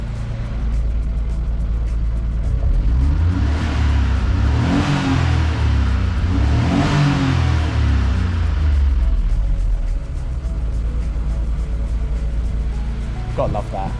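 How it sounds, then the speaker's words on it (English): A turbocharged Daihatsu Mira engine, warmed to operating temperature, revs twice in rising and falling sweeps over a steady idle, loud and close, then settles back to idle. "I'm just going to give it a little bit of a rev."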